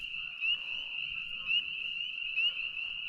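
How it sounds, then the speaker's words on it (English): A steady, shrill chorus of frogs drones without pause, with a louder pulse about once per second rising above the constant trill. "It is loud. Frogs."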